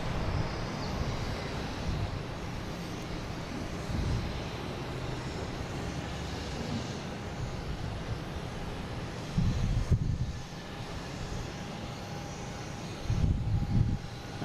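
Airbus A330 airliner at Boston Logan airport, a steady broadband jet engine roar holding fairly even throughout with a couple of brief low rumbling swells, heard from a distance amid outdoor wind.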